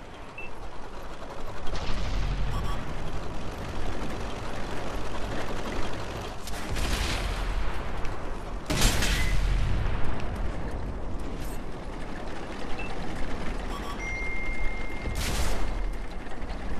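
Heavy tank cannon fire in World of Tanks on Xbox One/PS4: a steady roar of battle noise punctuated by a few loud booming shots spaced several seconds apart, with no talk.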